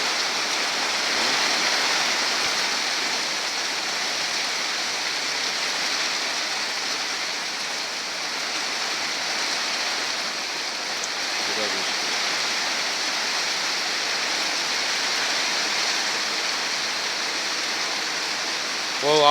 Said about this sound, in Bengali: ভরপুর বৃষ্টি নামছে